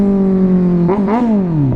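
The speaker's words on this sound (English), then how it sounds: "wanted me to rev it, so I revved it out." A 2023 Kawasaki Z900 motorcycle engine revs up sharply from a steady idle, then falls back, close and loud.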